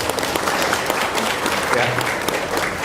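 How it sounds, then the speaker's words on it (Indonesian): A crowd at an Indonesian Hindu dharma talk gathering in Cibinong claps steadily and densely for about three seconds. "Tepuk tangan dulu."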